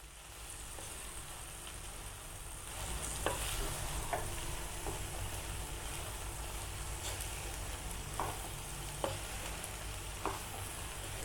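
Cooked rice being stirred into a capsicum mixture in a pan, a steady soft sizzle with scattered scrape and clack accents from the spoon that grow busier partway through, with no talking.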